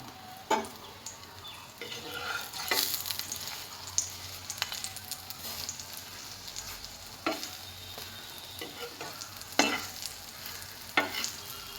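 Semolina paratha frying in white oil in a pan, a soft steady sizzle broken by scattered stirring and flipping scrapes and light clicks, fairly quiet and close.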